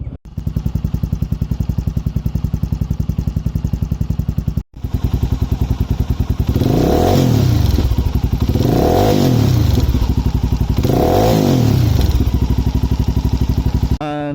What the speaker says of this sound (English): have the sound of the exhaust, sorry, at idle and revving